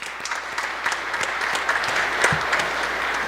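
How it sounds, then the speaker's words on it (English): A Methodist church congregation applauds, moderately loud clapping with individual claps distinctly audible at first, then thickening into a steady round of applause. "How about another round of applause?"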